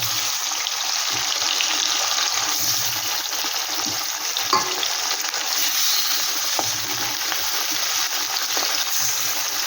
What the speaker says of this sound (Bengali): এই মাছগুলো কিন্তু খুব একটা কড়া ভাজবো না।